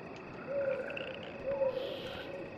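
Frogs in the World of Warcraft: Battle for Azeroth video game give two separate short croaks about a second apart, clear and moderately close over a soft ambient hum.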